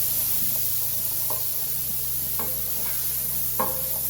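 Chili and peppers sizzle and brown in a pot over high heat, a soft steady hiss under a low hum, with a few brief clinks and stirring scrapes near the end.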